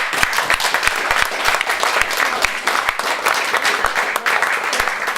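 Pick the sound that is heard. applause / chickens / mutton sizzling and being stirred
applause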